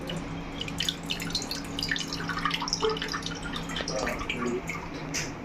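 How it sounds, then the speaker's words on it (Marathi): Water trickles and drips from a freshly cracked coconut in a home kitchen, a steady splashy flow with small patters throughout, close by and alone with no talk. "अरे वा, निघालं पाणी एवढं नारळात."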